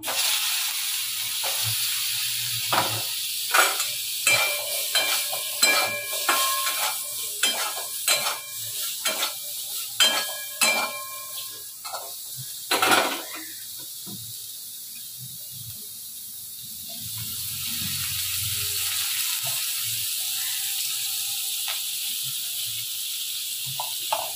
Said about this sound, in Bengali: হলুদ আর নুন দিয়ে ঘি করলাগুলো ভেজে নেবো।